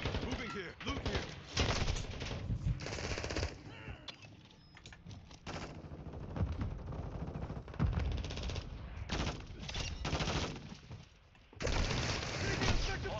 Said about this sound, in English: Sentry gun